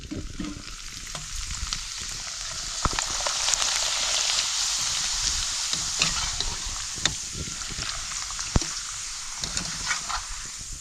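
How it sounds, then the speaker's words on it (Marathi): Papad frying in hot oil for a Marathi festive meal, a steady loud bubbling sizzle with crackling pops that continues throughout without speech. "तेल चांगलं गरम झालंय पापड टाकू"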